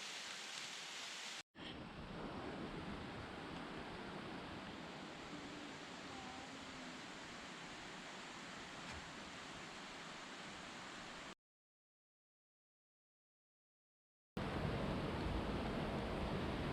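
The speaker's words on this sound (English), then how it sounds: "Liberty Gorge is an amazing overlook of a cascading mountain stream." A cascading mountain stream at Liberty Gorge in Lincoln, New Hampshire, rushes in a steady, broad roar of water, heard from an overlook, with one brief cut and a longer stretch of silence before it resumes.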